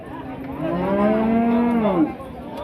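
A single long, deep cow moo, close and loud, rising and falling for about two seconds, with faint background murmur, at the Rajshahi city cattle market.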